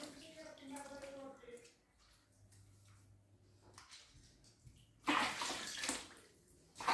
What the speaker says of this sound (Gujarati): એને આપણે નોર્મલ વોટરથી એટલે મતલબ નોર્મલ પાણીથી જ આપણે સાફ કરવાનું છે એને